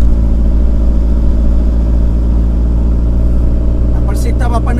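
Car being driven into a garage with a loose exhaust muffler, a steady low engine rumble running throughout, with faint rattly, tonal chatter rising near the end.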